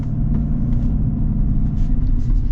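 GMC Sierra AT4X pickup with a 6.2 V8 pulling away, a loud, steady low engine rumble filling the cab with no voices.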